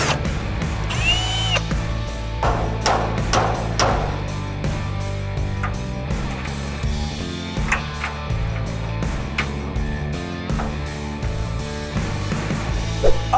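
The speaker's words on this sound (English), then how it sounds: "take this thing off, drill him out, throw your last screw on" A power drill bores out a steel hood bracket during a hood strut install, its motor whining in repeated bursts with metallic ratcheting and clanks between runs, close and fairly loud.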